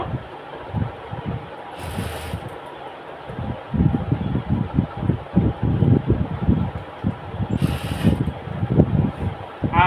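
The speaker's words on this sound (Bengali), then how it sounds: "আমি আস্তে আস্তে করতেছি সেলাইটা আপনাদের দেখানোর জন্য" A sewing machine slowly stitches a bag handle with a soft, rhythmic, low thumping run of stitches that starts and pauses, close by and moderately loud, with no talking.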